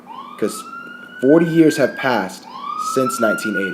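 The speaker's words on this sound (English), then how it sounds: "Sorry about the sirens." A wailing siren rises and falls twice in the distance while someone speaks over it.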